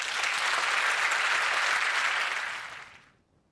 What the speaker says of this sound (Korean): 강사님께 우리 감사의 박수 드리겠습니다